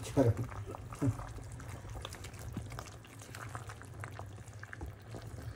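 Pot of pork sinigang broth boiling, a steady low bubbling roil with a few louder splashy bursts early on, while a person talks over it.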